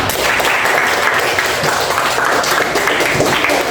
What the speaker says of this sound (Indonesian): kasihkan tepuk tangan dulu